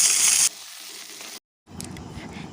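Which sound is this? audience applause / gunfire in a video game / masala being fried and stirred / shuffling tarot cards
masala being fried and stirred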